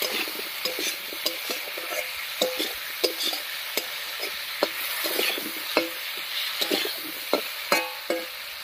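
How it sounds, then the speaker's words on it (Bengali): Cut potatoes with salt and turmeric frying in a pan, a continuous sizzle broken by regular spatula stirring taps and scrapes, with no one talking. "আলুটা একটু ভাজা ভাজা হতে থাক"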